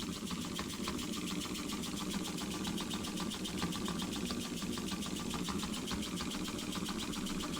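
A small homemade bar stock wobbler model engine with a slightly off-center flywheel runs steadily, giving a fast, continuous mechanical clatter and chuffing at close range with no talk over it.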